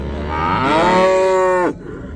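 A single drawn-out cow moo at a livestock market, loud and close, rising and holding for about a second and a half before cutting off, with low market background noise behind it.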